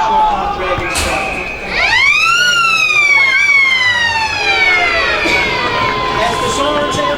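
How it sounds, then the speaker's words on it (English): The final siren at an Australian football match at Garden Reserve, a loud rising and falling wail that sweeps up and holds for several seconds over crowd noise, with a commentator talking over it. "As the siren sounds here at Garden Reserve"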